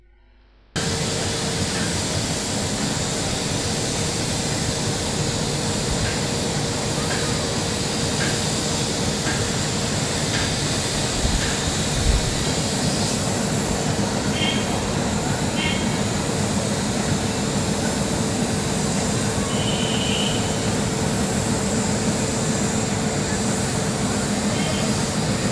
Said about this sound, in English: there's one of our first views of the diesel traction